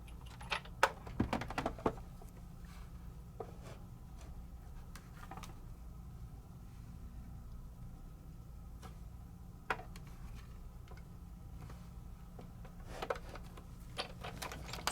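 A Sizzix die-cutting machine cranks a die through, producing a faint, steady mechanical ratcheting with scattered sharp clicks and ticks, close and quiet, with no voices.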